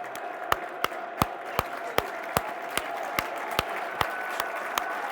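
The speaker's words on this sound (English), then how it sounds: "this is applause for Matt Anderson" Football crowd at a Millwall match applauds in tribute to late Millwall fan Matt Anderson, a steady distant wash of clapping with regular loud sharp thuds roughly every third of a second, like rhythmic hand claps or banging.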